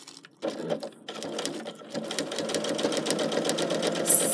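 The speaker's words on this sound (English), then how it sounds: "I'm stitching around the edge of the front of the little house at the moment" A sewing machine stitching around the edge of a fabric piece runs in short bursts, then settles into a steady rapid stitching rhythm, close up.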